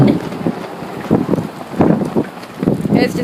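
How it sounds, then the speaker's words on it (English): Gusty outdoor wind buffets the microphone in repeated rumbling bursts near a display of classic cars, with faint voices under the noise. "it's a little windy, so you guys are probably gonna hear some wind."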